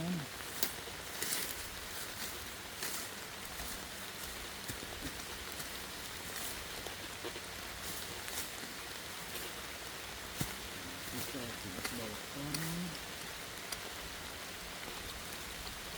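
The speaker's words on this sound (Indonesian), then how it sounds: "Kita dilanda hujan." Rain falls outdoors as a steady, even hiss throughout, with scattered sharper drops and faint voices in the background.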